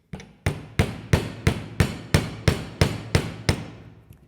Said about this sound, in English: I'm just picking out areas that I can get to with my hammer.